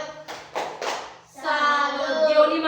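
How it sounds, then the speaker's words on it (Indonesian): Children in an early-grade classroom give a short 'tepuk salut' clap for a classmate: three quick bursts of clapping, followed by a child's sustained sing-song voice chanting along. "Tepuk tangan dulu untuk Gio. Tepuk salut saja."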